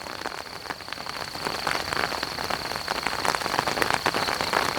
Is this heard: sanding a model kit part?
no